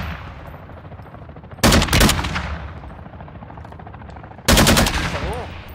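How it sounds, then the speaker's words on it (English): Two loud, close bursts of rapid automatic gunfire in a first-person shooter video game, each lasting about half a second, separated by a stretch of quieter game ambience. "I'm shooting them"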